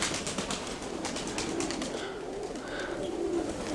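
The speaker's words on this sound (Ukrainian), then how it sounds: "Все небо в голубах." A flock of pigeons over open sky produces soft, low cooing and faint fluttering against steady outdoor background noise, fairly quiet and without speech.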